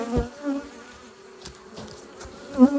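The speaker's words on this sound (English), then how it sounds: "We have a lot of bees here too. Lots of bees." Dense, steady buzzing of many honey bees at an open hive in October, close by, a low continuous hum with individual bees droning past now and then.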